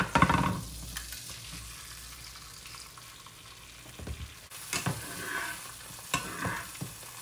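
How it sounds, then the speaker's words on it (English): An egg fries in butter in a pan, a steady soft sizzle with a louder burst at the start and a few clinks and scrapes later on, no one speaking. "I'm gonna add just a little bit of butter to my pan, and I'm gonna fry up an egg"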